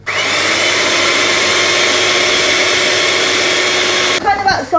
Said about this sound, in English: I'm going to start by whisking on a low speed